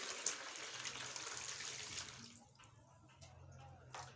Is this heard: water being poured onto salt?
yes